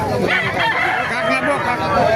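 A rooster crows loudly and close by at a chicken market, a long strained call with other fowl clucking and voices murmuring in the background.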